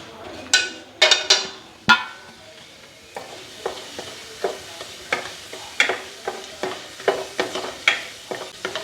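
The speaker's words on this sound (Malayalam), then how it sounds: "കട്ടക്കായമാണെങ്കിൽ എണ്ണ ചൂടാക്കി കഴിയുമ്പോൾ നമുക്കിതൊന്ന് വറുത്ത് കോരാം" Lumps of asafoetida fry in hot gingelly (sesame) oil for a bilimbi pickle, with a run of sharp sizzling crackles and spoon scrapes coming in an irregular but steady rhythm, close and clear.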